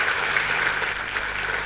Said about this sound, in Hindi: जोरदार ताली एक बार मेरे सीनियर मेंटर्स के लिए।